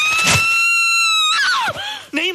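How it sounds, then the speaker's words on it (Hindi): A mother lets out a long, high-pitched scream of fright, loud and sustained for over a second, followed by shorter cries and excited voices. "माँ चिल्लाओ मत"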